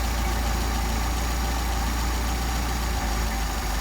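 A Mercedes 190SL engine idles steadily on Solex carburetors while the mixture screws are adjusted, a constant low rumble with even pulsing that stays close and loud throughout.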